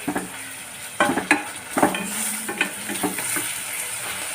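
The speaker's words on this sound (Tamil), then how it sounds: "இந்த தக்காளி கொஞ்சம் வதங்கினா போதும்" Tomatoes sauté in a pan for semiya khichdi, a close sizzle broken by a run of sharp spoon scrapes and knocks against the pan, with no talking.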